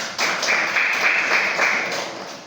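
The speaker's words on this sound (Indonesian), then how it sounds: "kasih tepuk tangan dulu biar semangat" A group claps hands after a Quran recitation in a school class, steady applause running for a couple of seconds at moderate loudness.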